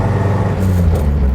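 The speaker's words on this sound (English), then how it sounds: "Yes, you can hear the sound of the proud Pinto." Engine of a 1974 Ford Pinto Wagon running, a low steady rumble with a slight rise in pitch toward the end, heard close with no talk.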